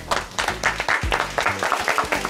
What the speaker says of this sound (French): Un tonnerre d'applaudissements pour Nathan Amram.